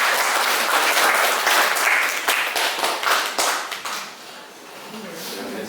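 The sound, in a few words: group clapping hands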